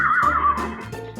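Horses nickering and whinnying on a farm, a wavering high neigh close by, then a lower rumbling nicker, loud and without speech.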